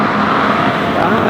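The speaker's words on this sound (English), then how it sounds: "there's a car coming." Car passing along a residential street lined with giant inflatable Santas, a broad steady road noise filling the short moment, fairly close and loud with no talk over it.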